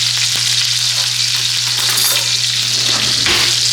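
A New York strip steak sizzles loudly in a pan of melted butter with fresh thyme, a steady close hiss and crackle running unbroken throughout, with faint scraping of a spoon and no speech.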